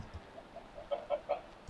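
A chicken in the Minecraft video game gives a short run of soft, evenly spaced clucks, quiet and close, with no talk over them.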